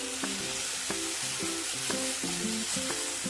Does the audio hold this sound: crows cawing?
no